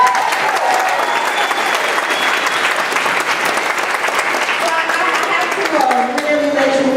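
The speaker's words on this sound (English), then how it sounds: "let's give our young people another round of applause" Sustained, loud audience applause at a middle school Black History Month assembly honoring young performers, steady clapping throughout with a voice and some tonal sound emerging near the end.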